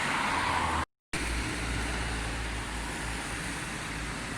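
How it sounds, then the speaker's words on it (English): A Lexus CT200H car goes by amid steady roadway noise, a continuous moderate hum with a brief dropout to silence near the start. "Oh look, a Lexus CT200H."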